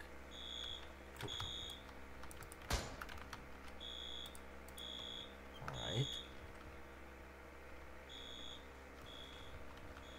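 Fire alarm pulled inside a bank in the roleplay game ER:LC, sounding as evenly spaced repeating electronic beeps in the background, with keyboard clatter and occasional talk over it.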